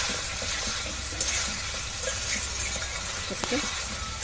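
Pumpkin greens and potatoes being sautéed in a pan for a village-style shukto, a steady low sizzle with occasional stirring scrapes and clinks, fairly faint and continuous.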